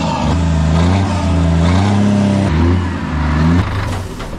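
A 19-year-old Scania V8 show truck with an upgraded loud exhaust revs hard, its deep harmonic engine note rising and falling through several throttle blips, close and very loud.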